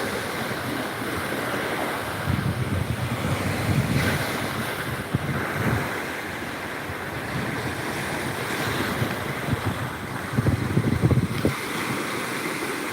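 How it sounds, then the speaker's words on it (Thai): Sea waves roll onto the beach at Pak Phanang in southern Thailand, a continuous surf roar with a few louder swells breaking, mixed with gusty wind buffeting the microphone. "นี่ครับคลื่นสวยงาม"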